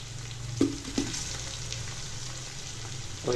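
Ginger garlic paste fries in ghee with a steady broadband sizzle, a few sharp clinks of a spoon or pan standing out near the start and end, with no talking.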